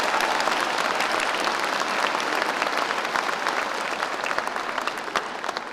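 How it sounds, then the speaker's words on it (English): A graduation ceremony audience claps steadily and loudly, a dense wash of applause that fades slightly toward the end. "Let's give them a big round of applause."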